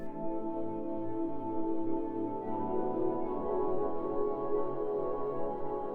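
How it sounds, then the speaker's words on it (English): Soft, hazy synth pad from the Dream Runner patch in Ethereal Earth sustains evenly with a gently shimmering texture, quiet and alone, no voices. "So I found this Dream Runner patch in Ethereal Earth."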